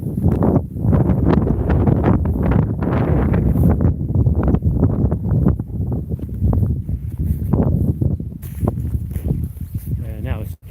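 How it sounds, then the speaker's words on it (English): Wind gusting steadily through Frith Wood, a loud, continuous rush with rustling and footsteps close to the microphone, while people talk over it throughout. "I think it's blowing up again."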